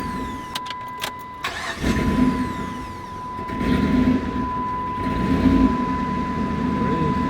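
A high-mileage Dodge Ram pickup with 165,000 miles and a freshly reset throttle idles as it warms up, a steady engine rumble with a constant whine, heard close and alone.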